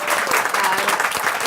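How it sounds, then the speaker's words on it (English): An audience at a panel discussion breaks into applause, a dense burst of clapping from many hands that fills the room loudly and evenly for a moment. "a massive round of applause for our amazing"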